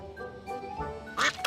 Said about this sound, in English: Look, there's a duck over there.